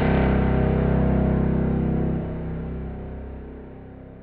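An orchestra pitched down two octaves with long reverb plays as a heavy, murky low roar, dropping in level about halfway before a slow, washy reverb tail decays, with no talking.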